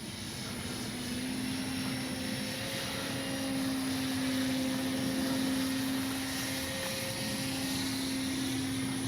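An E-flite SNJ-5 Texan RC warbird flies overhead, its steady electric motor drone holding at a moderate distance with a faint tonal whine that rises and fades slightly as it passes.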